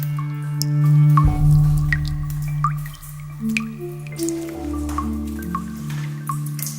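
Water dripping inside the limestone Koněprusy caves of the Bohemian Karst, isolated plinks falling at irregular intervals with a resonant, echoing ring, heard alone in a hushed chamber.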